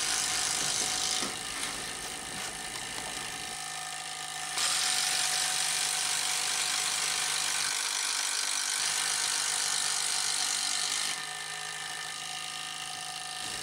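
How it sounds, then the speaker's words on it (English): Milwaukee M12 1/4-inch hex impact driver (2462-22) boring holes in wood with a 5/8-inch spade bit: a steady, loud mechanical whir with a rattling, ratchet-like edge, running in long sustained bursts that surge louder midway, alone without talk. "This next set of holes is done with a 5/8 of an inch spade bit."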